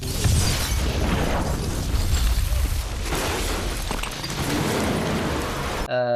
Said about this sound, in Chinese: 爆炸的时候小白又撞了一下脑袋